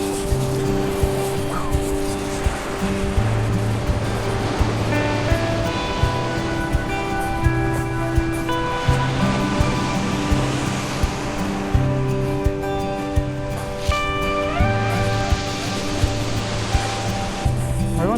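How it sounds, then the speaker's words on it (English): Storm-driven sea waves break along the coast path between West Bexington and West Bay as a storm ends, a steady, loud surf roar that runs throughout with a constant tonal hum layered over it. "end of a storm at the moment, and as you can see, it's turning the waves up quite interestingly"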